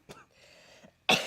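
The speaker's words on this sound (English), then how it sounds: "It's a dry cough" A faint throat sound, then a sharp, dry allergy cough close by, short and harsh.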